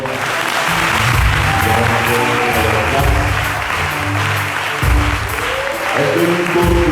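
A church congregation breaks into loud, sustained applause and cheering at a Sunday service, with a steady wash of clapping and voices calling out over low rumbling tones throughout.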